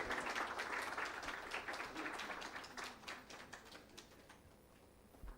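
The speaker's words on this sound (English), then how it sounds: "a big round of applause for these wonderful kids here" An audience at a World Clubfoot Day summit in India Habitat Centre gives a round of applause for children, steady faint clapping that thins out and fades away toward the end.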